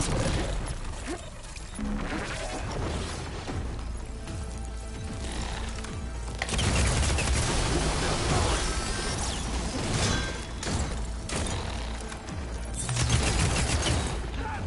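Weapon fire crackles through a hard-difficulty fight in the action game Horizon Forbidden West: dense, continuous bursts of sharp impacts and whooshes over a busy combat din, loud and steady throughout.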